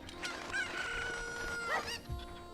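Chickens crowing and clucking in the video game Ocarina of Time, several game-bird calls overlapping in a busy, fairly loud stretch with a sharp squawk near the end.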